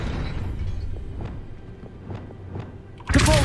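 A Levioso levitation spell cast in a Hogwarts video game, heard as a sudden bright magical burst near the end that follows a few soft, hollow thumps over a low ambient rumble.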